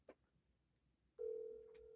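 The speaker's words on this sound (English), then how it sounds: "Phone is ringing." On an outgoing call, a single steady ringback tone starts partway through after a brief click and holds evenly until the end, faint and alone.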